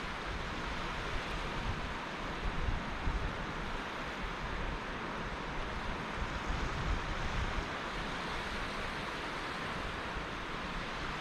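Choppy sea surf and coastal wind on the Lincolnshire shore at high water, a steady broadband wash of breaking waves with gusty rumble, continuous and fairly close, no voices.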